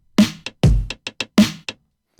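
Heritage Kit drum rack samples in Ableton fire off in a short pattern of separate hits, heavy kick-like thumps alternating with quick snappy strikes, loud and dry with clear gaps and no voices.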